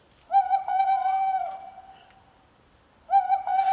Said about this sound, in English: The wise noodle owl has spoken.